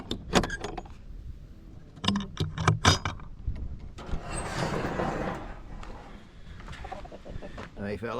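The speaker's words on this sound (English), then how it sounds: "All right, let's feed the roosters." Roosters clucking around feeding on scraps at a rural property, short bursts of clucks and fowl calls close by, mixed with some rustling and a voice speaking briefly.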